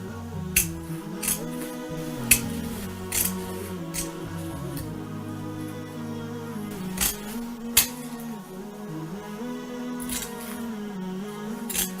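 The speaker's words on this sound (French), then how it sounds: "à l'aide de ciseaux cranteurs, je vais venir couper donc l'excédent de tissu" Pinking shears snip through excess fabric along a zipped pouch seam, a series of sharp, close cutting clicks spaced irregularly over steady background, with no talking.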